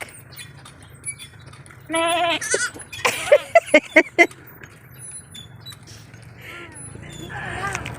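Several small goats bleat in short wavering cries on a farm in Santa Maria, Ilocos Sur, with a quick run of sharp repeated bleats in the middle, over a steady low background rumble.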